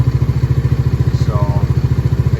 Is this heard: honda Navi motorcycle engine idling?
yes